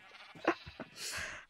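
A Minecraft sheep gives a couple of short, close bleats, quiet and alone, the last one drawn out.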